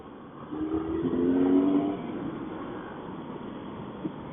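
A BMW GS motorcycle on 50-50 tyres accelerating along a damp road, its engine note rising to a moderate throttle then settling back, heard steadily from the rider's position with muffled wind noise.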